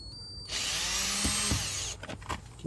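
A power drill whirs steadily for over a second while backing screws out of the top channel of a BMW Z3 convertible, then cuts off into a few close clicks and handling knocks.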